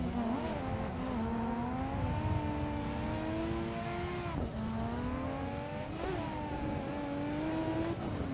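A racing video game car engine revs hard and loud during clutch-kick drifting, its pitch climbing and then dropping sharply twice as the clutch is kicked, sustained throughout with faint tire noise.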